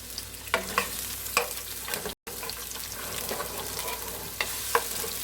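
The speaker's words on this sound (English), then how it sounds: "So I'm going to go ahead and saute this all up." Chopped garlic sautéing in a pan in a home kitchen, a continuous gentle sizzle with scattered scraping stirs, close up and without talk, briefly cutting out midway.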